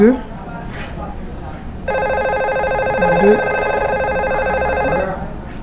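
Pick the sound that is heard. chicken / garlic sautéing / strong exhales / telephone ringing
telephone ringing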